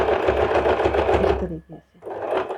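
A sewing machine stitching a kurti runs in a fast, continuous rattling whir, stops briefly near the end with a few short pulses, then starts up again close and clear.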